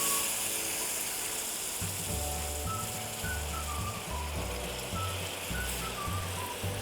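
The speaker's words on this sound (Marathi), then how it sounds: "याच्यामध्ये आपण उकळलेलं पाणी ओतून घेणार आहोत।" Steady, loud sizzling as boiled water is poured into ghee-roasted lapsi (broken wheat) in a hot pan, a dense hiss running continuously throughout, with a faint rhythmic low tone underneath.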